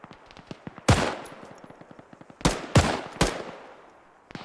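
PK machine gun fire in the video game ArmA 3: a fast rhythmic string of distant rounds, punctuated by several loud, close, booming shots with echoing tails.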